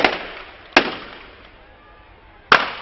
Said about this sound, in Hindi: पटाखे तो हैं इन पुतलों के अंदर।